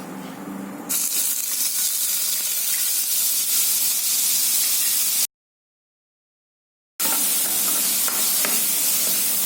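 Shahjeera and onion paste hitting hot oil in a kadai on low flame while making paneer butter masala: a loud, steady sizzle and hiss that stops for a silent gap midway, then resumes just as strongly.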